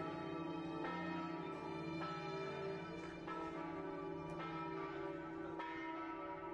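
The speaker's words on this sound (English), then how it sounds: "ringing of the bells in the tower of St." Church bells ring in the tower of St Mark's in Venice, a steady, resonant peal with overlapping tolls that sustains throughout, heard at a moderate distance.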